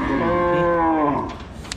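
Cattle at a busy livestock market in Kishoreganj, one long drawn-out moo ringing close and loud with rich harmonics, fading after about a second into quieter background chatter and noise.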